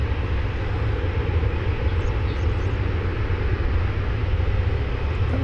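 An American Airlines airliner, flight 1584, takes off from runway 18 Left at Dallas/Fort Worth Airport at daybreak, a steady, broad jet-engine roar that stays loud and even throughout.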